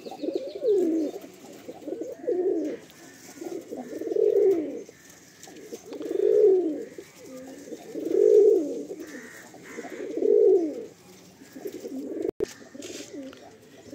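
A pair of Fulsira Madrasi pigeons coos close by, seven or so soft, rounded coos spaced evenly about two seconds apart, with a quiet background.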